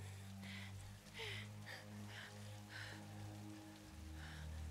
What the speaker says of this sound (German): Und es regnet immer noch, aber es ist jetzt irgendwie nebelig geworden.